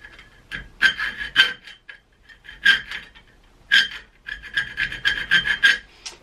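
Rasping strokes of a rat-tail chainsaw file scraping a metal adapter plate, in several bursts with short pauses between, close and fairly loud.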